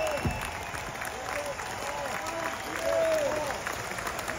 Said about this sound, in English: And one more big clap for the Heart of England Philharmonic.